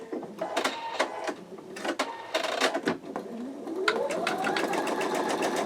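An embroidery machine sews the placement stitch for an in-the-hoop wallet, buzzing in rapid stitching bursts with clicks and a rising motor whine, close and without talk.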